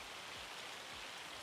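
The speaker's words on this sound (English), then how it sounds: "I had to come in the garage here today at the house to hide from the hail." Hail drums down in Farming Simulator 25 as a dense, steady hiss of impacts, heard from inside a garage on a farm map set in Alma, Missouri, with no voices.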